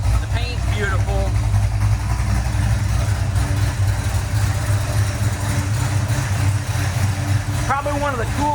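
A 1973 Dodge Charger SE's 440 V8 idles with a steady, deep low rumble close by, while brief voices speak over it near the start and end.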